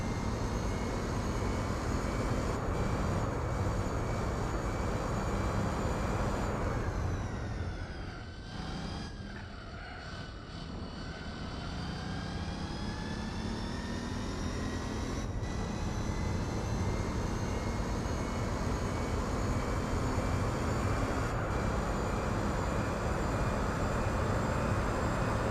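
A Mercedes-Benz E55 with a racing exhaust drones in Gran Turismo 4 during a 24-hour Nürburgring endurance race, a sustained engine roar that rises and falls with gear changes and a brief lift, steady throughout without talk.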